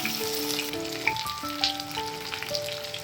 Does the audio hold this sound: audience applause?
no